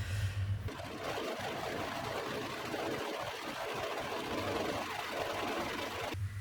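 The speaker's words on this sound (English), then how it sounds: "I'll do some serging." A serger overlocker stitching cotton fabric for an elastic waist dress runs in a steady fast whirring hum, close and continuous, stopping briefly at the start and end.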